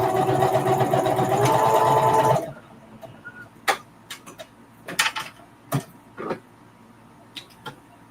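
A home sewing machine stitching a mug rug, whirring steadily for a couple of seconds, then stopping, followed by scattered sharp clicks and taps of handling nearby.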